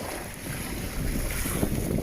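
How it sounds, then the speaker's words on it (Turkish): Steady, rushing wind roars across an open microphone from a canoe at sea in waves of about 1.5–2 metres, crossing from Erdek toward Çanakkale, with broadband buffeting and a low wash of water beneath it. "Güzel rüzgar devam ediyor."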